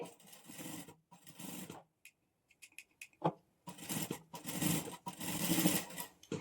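A sewing machine stitches a neck band on a garment, close bursts of rapid mechanical whirring separated by brief pauses and a few small clicks of fabric handling.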